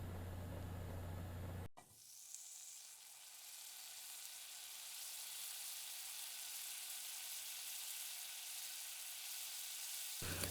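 Two tablespoons of butter hitting a pan over medium-high heat, a sudden start followed by a steady bright crackling sizzle that stays even and close for the rest of the clip.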